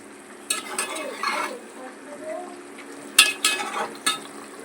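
A spoon stirs chicken leg curry in a pot, giving a series of close scraping, clattering strokes over a low simmering bubble, with several sharp knocks against the pot.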